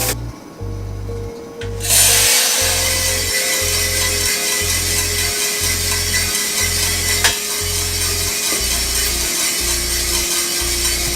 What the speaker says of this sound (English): It is the Mill City 1 kilogram gas roaster, and I want to do a roast along with you guys